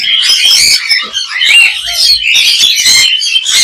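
Large red ring-necked parakeets of a Dutch bloodline screech and chatter loudly and up close at Mirpur's crowded bird market, harsh overlapping calls filling the whole stretch without pause.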